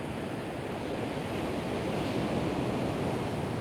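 Ocean waves on a surf beach near a breakwater, a continuous broad wash of surf with steady wind noise and no voices.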